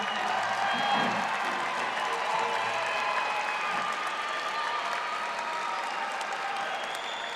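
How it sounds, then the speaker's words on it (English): A graduation audience at a 2017 commencement ceremony breaks into sustained applause, steady and full for the whole stretch with scattered cheers and whoops mixed in, no speech over it. "So stand up, give them a round of applause, and thank your parents."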